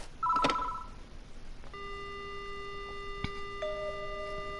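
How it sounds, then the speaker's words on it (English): A telephone dial tone plays in the horror video game Death Mark, a steady electronic hum that runs for several seconds after a brief clunk of the receiver being picked up, with no one speaking. "The only sound I hear is the dial tone."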